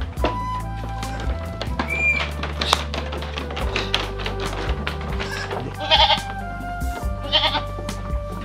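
Goats bleating repeatedly at close range, several overlapping calls with a steady low hum and occasional taps in the background.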